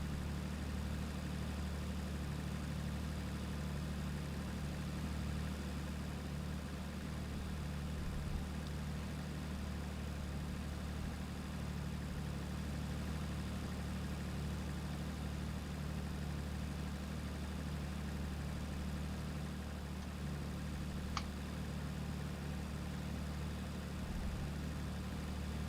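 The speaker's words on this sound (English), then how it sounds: "That's a nice idling sound." A car engine idles steadily at low volume, a continuous low hum with a faint regular pulse, steady and unchanging, with a single faint click near the end.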